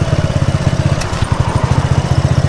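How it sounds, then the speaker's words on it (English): A 250cc Hammerhead go kart engine idles roughly with a loud, uneven low putter, close by, pulsing irregularly as if about to die, with no talking. "See, so now if you listen to the engine, it's gonna stall."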